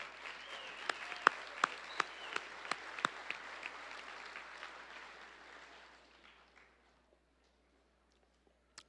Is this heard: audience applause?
yes